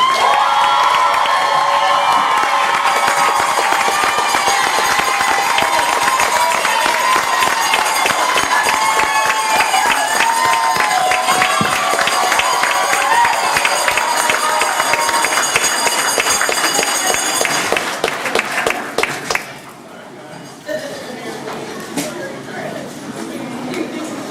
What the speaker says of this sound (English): Let's give a big round to our Teachers of the Year.